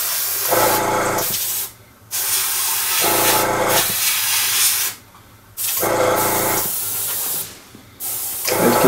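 Acrylic paint sprayed in a thin mist onto a Tiger I tank scale model, heard as four steady airbrush-style hissing bursts of about a second each, separated by short pauses, close and fairly loud with no talk.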